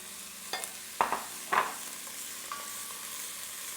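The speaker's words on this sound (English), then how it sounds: "We're going to heat up a little bit of olive oil, about 2 tablespoons. And then we're going to add in our onion." Chopped half onion dropped into about two tablespoons of hot olive oil, giving a faint, steady sizzle broken by a few soft clicks and taps of stirring early on, with no voices.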